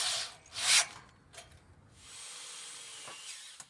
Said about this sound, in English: We will now drill in the bolt.